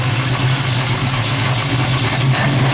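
A 1970 Chevrolet Chevelle SS with a Comp cam and steel crank idles steadily, giving a deep, loud, even rumble with a lumpy low pulse that holds throughout.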